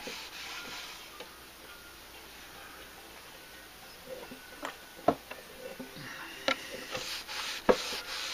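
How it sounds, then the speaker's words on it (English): A rag rubbing finish into the wooden cabinet of a Radiola 18 radio, a soft continuous scrubbing with scattered light taps and clicks growing slightly busier toward the end. "I just put a little on the rag and just rub it."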